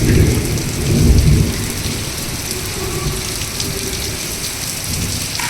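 Heavy rain and strong gusting wind roar steadily outdoors, a broad constant wash with a louder low rumble of gusts early on.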